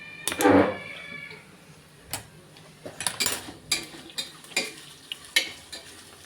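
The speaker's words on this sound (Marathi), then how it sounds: "आपण कांदा आधी परतून घेऊ" Chopped onion is sautéed in a pan, mostly heard as a spatula scraping and clicking against the metal in irregular strokes. A faint frying hiss sits underneath, with one louder burst of stirring near the start.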